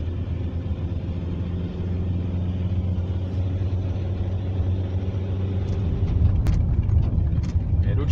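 A car travelling slowly at about 40 km/h along a snowy road, a steady low rumble of engine and tyres from inside the cabin, while someone talks over it.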